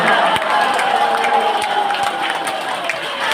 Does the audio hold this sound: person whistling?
no